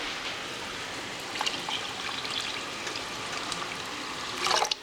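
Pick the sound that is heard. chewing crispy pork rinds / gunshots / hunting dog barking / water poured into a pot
water poured into a pot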